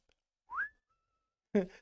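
A person whistles a single short rising note that settles and fades, followed by a brief burst of voice.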